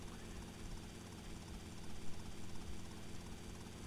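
A helicopter in the video game GTA Vice City, its engine and rotor making a steady, loud whirring roar that holds throughout, swelling slightly midway, with no talk over it.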